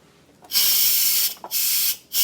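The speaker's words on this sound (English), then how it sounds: "And as you can see, all the steam just blows off." An Instant Pot opened after cooking Bombay biryani lets off steam in loud bursts of broadband hissing, three close blasts separated by brief pauses.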